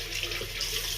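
A tap runs steadily, water pouring into a sink with a continuous close hiss and splash and no voices over it.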